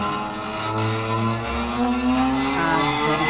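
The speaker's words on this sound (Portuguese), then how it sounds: "Você relembrar as vitórias com o som do carro." A race car engine sound played together with a victory theme at a live show, its rising engine whine blending into loud musical tones, continuous throughout.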